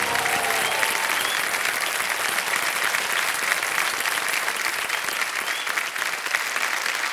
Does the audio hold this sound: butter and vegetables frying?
no